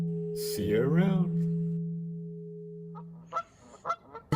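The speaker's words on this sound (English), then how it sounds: "The two birds conferred." Two birds call to each other with honking, goose-like cries over a steady electronic tone, followed after a pause by several short, sharp chirps.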